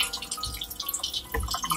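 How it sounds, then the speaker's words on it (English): Tap water runs and drips steadily into a bowl during wool felting, a continuous close splashing wash with small irregular drips throughout. "the running water"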